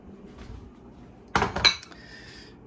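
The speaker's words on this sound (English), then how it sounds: "Just gonna get plates out." Plates and bowls being taken out of a kitchen cupboard in a home kitchen, a short burst of ceramic clatter and clinks close by, then quiet.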